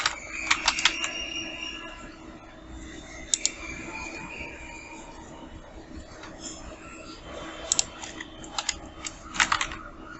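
Light, irregular clicking of a computer keyboard as text is typed for a graphic design, with occasional quick clusters of keystrokes over a faint steady background hum.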